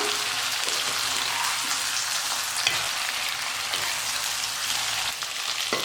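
Raw banana slices fry over a medium flame in a pan for vazhakkai varuval, giving a steady, dense sizzle that holds close and even, broken only by faint stirring scrapes.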